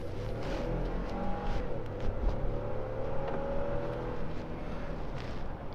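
A 2015 Ford F-150 XLT SuperCrew 4x4 pickup accelerating hard from a rolling start, its engine note rising steadily and droning loud and close throughout with no talk.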